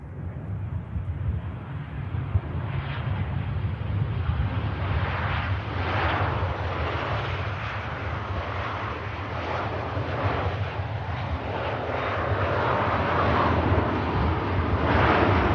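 US Navy Lockheed C-130 Hercules passing high overhead at about 20,000 feet in murky skies, a continuous distant rumbling drone that stays steady and gently swells, with no talk.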